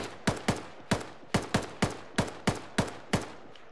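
Rhythmic gunfire in the video game Arma, about a dozen sharp, evenly spaced shots, often in quick pairs, moderately loud, with faint background noise and no speech.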